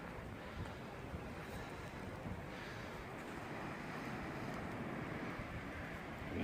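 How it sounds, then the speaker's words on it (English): Wind gusting steadily at a wild campsite during a solo overnight camp in harsh winter weather, a loud continuous roar buffeting the microphone that rises slightly toward the end, with no voices. "The wind's getting up."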